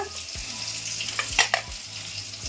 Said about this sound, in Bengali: মাছ ভাজা বসিয়ে দিয়েছি, মাছ ভাজাটাকে হোক